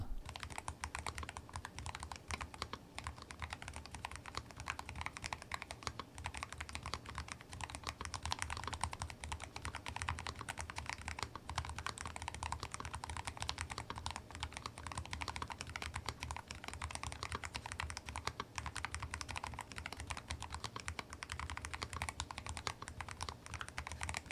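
Rapid, steady typing on a NuPhy Air60 HE low-profile keyboard with magnetic switches and transparent keycaps, soft, quick clacks continuing throughout, close and alone.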